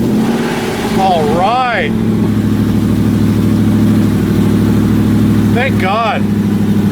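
Car engine idles steadily and loudly after a no-start battery problem was fixed, a low constant hum with two brief pitch swoops, while someone talks over it.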